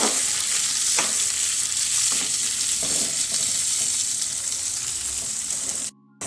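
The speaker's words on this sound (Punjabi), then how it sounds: "ਪਿਆਜ਼ ਪਾ ਦਵਾਂਗੇ ਪਿਆਜ਼ ਪਾ ਕੇ ਮਿਕਸ ਕਰ ਲਵਾਂਗੇ ਤੜਕੇ ਦੇ ਵਿੱਚ" Onions frying in a hot oil tadka for a tinda curry, a loud steady sizzle with repeated scraping stirs throughout, cut off briefly near the end.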